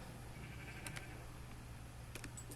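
Baby sheep in the Minecraft video game bleat in two short, fairly faint bursts over a steady low background hum, with no talking.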